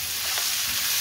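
Finely chopped ginger and garlic sizzle in a hot pan, a steady loud crackling hiss heard close up and alone for a brief moment.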